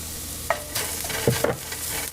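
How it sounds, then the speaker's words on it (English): Garlic goes into onions frying in olive oil in a pan and is stirred, giving a steady sizzle with a few sharp scraping strokes of a utensil close by. "we're going to go ahead and add our garlic"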